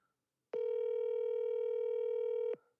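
A single steady telephone tone lasting about two seconds, clean and sustained with abrupt start and stop, alone against silence.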